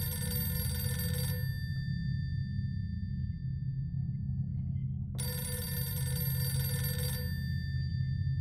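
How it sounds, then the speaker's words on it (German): A telephone in the horror game The Mortuary Assistant rings in two long electronic bursts with a quiet gap between them, set over a low, steady ambient drone. "Ich habe ein Telefon."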